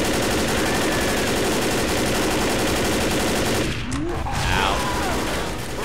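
Sustained automatic gunfire in the zombie shooter game Left 4 Dead, loud and continuous bursts dominating throughout, briefly thinning near the end as a voice speaks over it.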